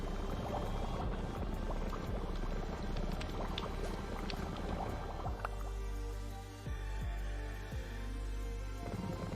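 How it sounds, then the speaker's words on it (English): Bubbling mixing sound effect from the Create mod in Minecraft, a quiet, continuous liquid burble with scattered small pops, faint and steady throughout. "This bubbling noise is pretty awesome."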